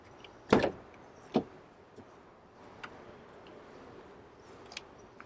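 The door of a 2011 BMW 1 Series M opens with a sharp latch clunk followed by a second click, then a few faint rustles and taps nearby.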